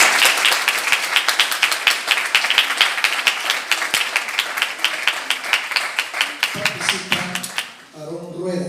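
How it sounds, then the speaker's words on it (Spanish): A crowd claps steadily in sustained applause, dense and loud, fading near the end as a voice begins to speak. "Poemas Cósmicos de Ricardo Ávila Alexander, a quien le vamos a dar un fuerte aplauso."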